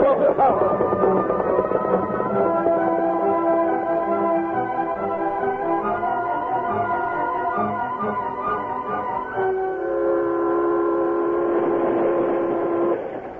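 Steam train chugging steadily with harmonic whistle-like tones sustained throughout, loud and close, backed by dramatic orchestral music.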